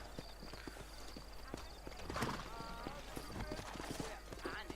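Horses clip-clop with steady hoof beats and neigh in the video game Red Dead Redemption, heard under ongoing talk and game sounds.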